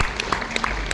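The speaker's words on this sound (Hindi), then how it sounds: "जोरदार तालियां सर के लिए।" Audience applause breaks out at an indoor leadership-program gathering, a dense burst of clapping from a crowd that fills the whole moment at steady loudness.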